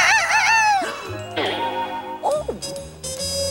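A cartoon rooster crows loudly in a 1993 Kellogg's Corn Flakes TV commercial, with bright jingle tones and someone speaking between the crow phrases.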